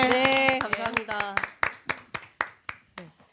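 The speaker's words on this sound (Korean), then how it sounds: "박수 감사합니다" Hands clap in a brief round of applause at the close of a live election-night broadcast panel, opening under voices and then thinning to several separate, sharp claps that fade out.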